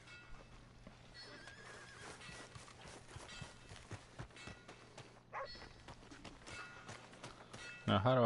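A horse in Red Dead Redemption 2 snorts and whinnies while its hooves clip-clop over the ground, with game background sounds around it and a louder burst near the end.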